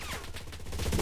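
Rapid gunfire in the World War II shooter game Enlisted, a quick burst of repeated shots over about a second, fairly close and loud amid battle noise.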